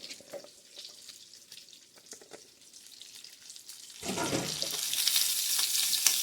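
Scrambled eggs are poured into a pan of bacon, starting with light clinks and quiet crackling before a louder, steady sizzle takes over partway through.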